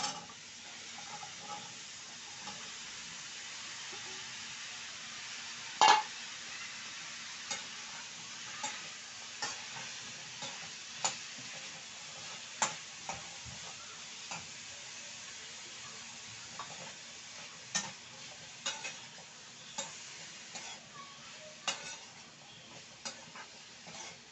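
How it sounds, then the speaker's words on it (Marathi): Washed pieces of red pumpkin fry softly in a pan while a spoon stirs them, making a faint, steady sizzle punctuated by repeated light scrapes and knocks, with no talking. "असं मी आता ना भोपळा धुवून घेतलेला टाकते"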